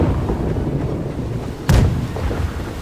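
A ship's cannon fires once in the naval combat game Blackwake: a single heavy boom bursts out of a steady rush of wind and sea noise, then fades back into the ambience.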